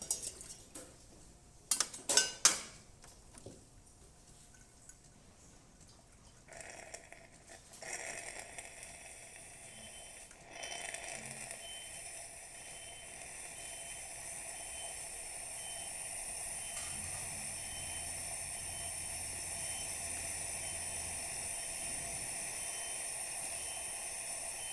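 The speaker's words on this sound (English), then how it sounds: "And the steamer." A DeLonghi Magnifica XS coffee machine fresh from service runs its steam wand after a few clinks and clatters, then builds to a steady faint hiss that holds for the rest of the stretch.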